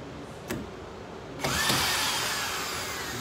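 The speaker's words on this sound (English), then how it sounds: "I got a corded screw gun, collated drywall screws." A corded screw gun driving collated drywall screws gives a short tap, then a steady whirring drive that starts abruptly and carries on close and moderately loud.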